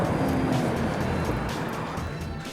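A car engine roars up close, a throaty rumble that slowly eases off over a couple of seconds, with no voices.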